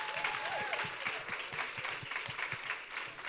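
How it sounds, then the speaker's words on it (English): Audience applause at a health innovation pitch competition, a steady wash of many hands clapping at moderate volume from a crowd in a hall. "so please give yourselves a round of applause."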